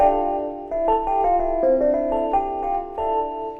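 A vibraharp keyboard sound plays a gentle melody of sustained, bell-like tones with soft overlapping decay, clear and alone.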